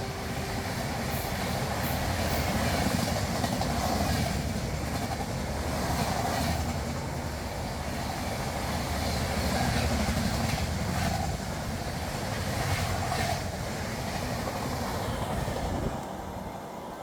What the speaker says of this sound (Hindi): उस ओवरटेक के बाद हमारी ट्रेन अब मोरेना स्टेशन से चल दी है